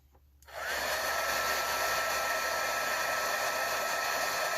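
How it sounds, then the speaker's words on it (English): An embossing heat gun melting embossing powder for a handmade anniversary card switches on after a brief quiet moment and then blows a steady, loud, close whoosh of hot air without a break. "So I'm going to emboss this with the embossing tool."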